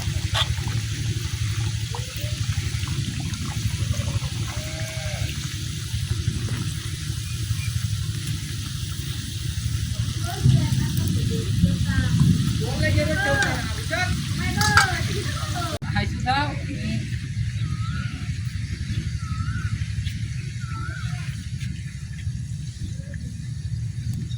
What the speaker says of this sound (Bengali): এই সিঙ্গারাগুলো ভাজা হয়ে গেছে